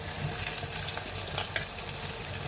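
Fenugreek seeds fry in hot oil for a fish curry, a steady, close sizzling crackle that holds at an even level throughout with no talking.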